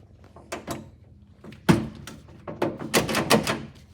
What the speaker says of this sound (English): now it's time to put the door handles on.